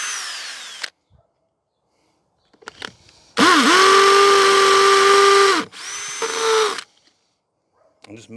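A power drill with a big bit bores holes in two loud, close bursts of steady high whine, the first about two seconds long and the second shorter, separated by quiet handling clicks.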